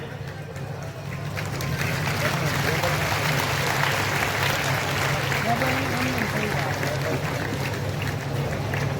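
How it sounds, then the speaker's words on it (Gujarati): An audience at an ashram gathering honouring Saurashtra saints applauds volunteers, with a broad, steady wash of clapping from many hands that swells after a moment and holds. Speech carries on over it. "એવા બધા જ સ્વયંસેવકોને એકવાર જોરદાર તાળીઓથી વધાવી દઈએ"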